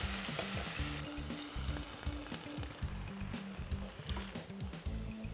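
Onions frying in a pan for beef curry udon give a dense, steady sizzle close by, with occasional stirring scrapes and no voices.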